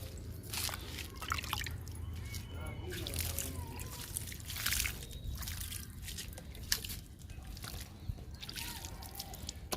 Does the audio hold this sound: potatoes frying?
no